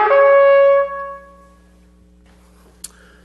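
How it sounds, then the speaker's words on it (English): A trumpet sounds a sustained, bright tone that slides in a shofar-like motif, loud at first and then fading out over about a second, followed by near silence and a faint click. "The second one is reminiscent of the sliding or sound of the shofar,"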